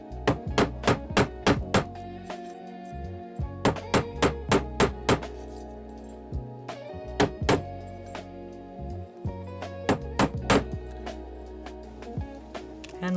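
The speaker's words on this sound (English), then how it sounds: "Then come back through with your mallet again." Mallet strikes on copper wire ear hooks at a jewelry bench, a quick run of sharp, close metallic taps in uneven bursts with brief pauses between groups.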